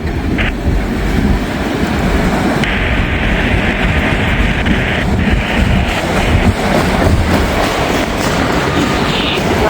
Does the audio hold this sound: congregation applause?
no